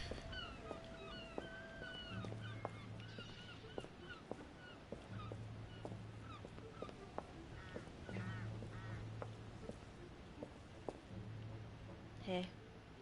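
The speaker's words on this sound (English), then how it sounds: "Birds are laughing at you because you can't jump." Cartoonish video-game birds cackle in quacking, honking calls scattered across the scene, recurring in short bursts over a steady game background, with a person talking over them.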